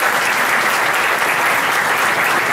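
A church congregation claps together during a Palm Sunday sermon, a dense, steady roar of applause that holds at full strength for the whole stretch without letting up.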